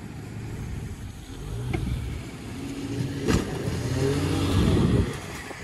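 A Suzuki off-road vehicle engine running and revving at moderate distance, rising and falling in pitch with a brief sharp knock midway, no talking.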